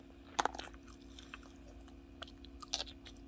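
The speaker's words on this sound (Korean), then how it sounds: "단무지도 아삭아삭." Crisp, close crunching bites of pickled yellow radish (danmuji), a few sharp bursts of chewing spread across a quiet room with a low hum behind.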